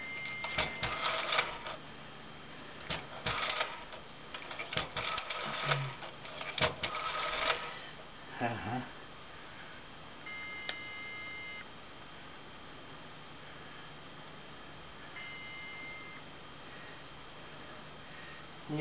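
Telephone on a PBX exchange line: a burst of rapid clicks and tones from dialing, then a long quiet stretch broken by two short steady beeps, all fairly faint with no talking.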